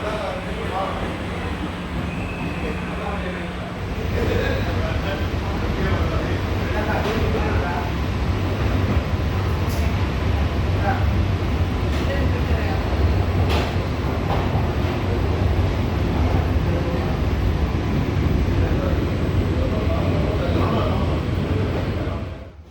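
An air-conditioned suburban local train between Chennai Beach and Chengalpattu rumbles along steadily with a loud continuous roar of wheels and carriage noise, occasional rattles and clanks, fading at the end.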